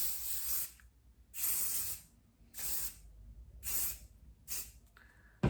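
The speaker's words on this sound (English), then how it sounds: "I am going to give it a spray with working hairspray before I touch any of those" Hairspray misted onto curled hair, five short close hissing bursts from the can spaced about a second apart with quiet pauses between them.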